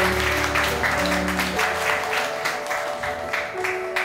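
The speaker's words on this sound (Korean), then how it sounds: "여러분 큰 박수로 환영해 주십시오" An audience at a meeting hall gathering claps to welcome an introduced guest, a dense round of applause over a lingering low musical tone that cuts out partway through.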